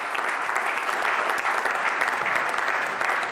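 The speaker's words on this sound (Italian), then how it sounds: "un bel applauso alla Lotta" Loud, sustained audience applause greeting a sports club guest on an Italian sports broadcast, dense continuous clapping from a close crowd with no break.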